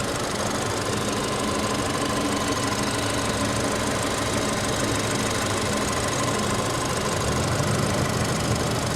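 A 2021 Ford Fusion SE's 1.5 EcoBoost inline four-cylinder engine runs at a steady idle with an even mechanical ticking hum, heard up close and continuous without any voices.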